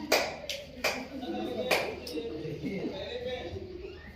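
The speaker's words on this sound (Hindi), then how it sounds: "तालियां बजाओ संध्या के लिए" A handful of sharp, separate hand claps ring out for Sandhya in a small group, spaced unevenly at close range, with people talking between them.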